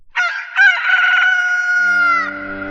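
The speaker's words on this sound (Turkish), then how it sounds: "Ahali horoz ötüyor diye fısıldadı ve sustu." A loud, close rooster crow, one long drawn-out call that rises and holds before trailing off, with a low tone entering near the end.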